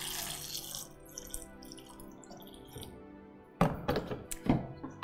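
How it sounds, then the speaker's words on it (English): Tomatoes being rinsed in strong 11.5 pH Kangen water: a soft run of faint water and a low hum, then a few louder thunks and splashes near the end, with no talking. "we're going to go ahead and wash these other ones with strong Kangen water"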